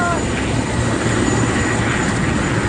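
Helicopter flying low and close over mountain treetops near a crash site, a steady, dense rotor and engine roar filling the whole moment at constant loudness, with a voice speaking over it.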